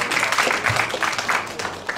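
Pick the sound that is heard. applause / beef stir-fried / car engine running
applause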